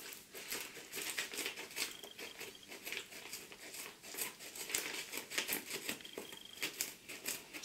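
Close, quiet crinkling of plastic packaging with snipping scissor cuts in an irregular rhythm, no voices.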